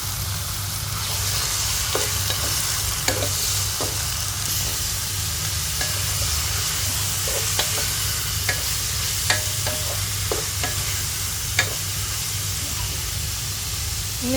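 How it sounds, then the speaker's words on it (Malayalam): Chicken seasoned with turmeric, pepper and salt goes into a hot pan for a Kerala-style curry and sizzles steadily and loudly throughout, with intermittent stirring scrapes and clicks over the constant frying hiss. "ഇനി നമ്മൾ കഴുകി വൃത്തിയാക്കി മഞ്ഞൾപ്പൊടിയും കുരുമുളകും ഉപ്പും കൂടി ചേർത്ത് വെച്ചിരിക്കുന്ന ചിക്കനും കൂടി ചേർത്ത് കൊടുക്കാം."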